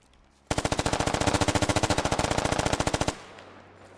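Sustained automatic rifle fire in the tactical shooter game Squad during a one-life event, a fast steady burst of about two dozen sharp rounds lasting nearly three seconds, loud and close with no talk.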